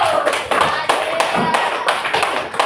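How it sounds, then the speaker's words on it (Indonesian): A school class claps for a discussion group in a religious education lesson, a loud, close, steady rhythmic clapping of many hands in unison, about three claps per second, with no talking. "tepuk tangan kelompok Abu Bakar"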